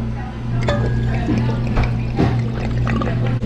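Inexpensive red wine poured into a small pot of peeled pears, a close steady liquid gurgle and splash over a constant low kitchen hum, lasting a few seconds.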